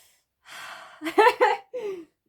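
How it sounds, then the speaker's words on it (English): A deep breath drawn in and let out in a few audible puffs and sighs, close and fairly loud, with no one speaking over it. "Take a deep breath"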